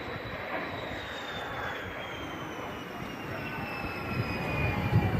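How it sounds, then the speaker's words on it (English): Military jet at the Hill Air Show accelerating away and climbing after a six-G minimum-radius turn, a steady loud roar with a slowly shifting whine, building louder toward the end. "Accelerates away while climbing for the next maneuver."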